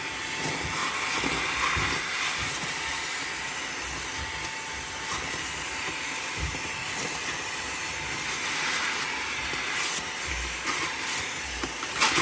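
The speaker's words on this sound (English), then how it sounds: "Just quickly demonstrate by hoovering this tray, which is for a good reason." A Xiaomi Mi Vacuum Cleaner Mini hoovers a tray, its small motor producing a continuous airy hiss and whine at moderate level, with faint bumps and scrapes of the nozzle against the tray.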